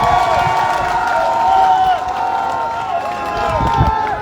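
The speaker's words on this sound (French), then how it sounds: "je vous demande d'acclamer très fort" A crowd at a political rally in Omboué cheers and acclaims loudly, a sustained roar of voices and shouts with whistles rising and falling, a few claps near the end.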